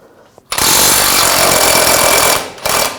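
An impact tool with a 21mm socket hammers loose a nut on a front lower rearward control arm of a 2007-2013 BMW 328i, one loud continuous burst of about two seconds, a short pause, then a brief second burst.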